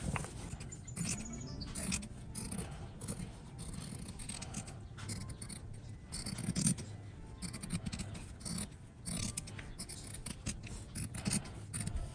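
Scissors cut through fabric for a beginner sewing project. The close-up snips and rustles repeat steadily for several seconds, with light scraping of cloth and no talking.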